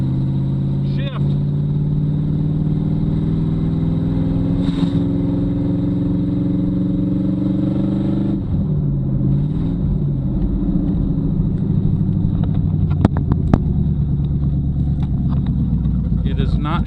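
A 2006 GMC Envoy with a swapped-in small-block engine rumbles steadily during a test drive, its low engine drone rising and falling in pitch as it revs without shifting, with a voice talking over it throughout.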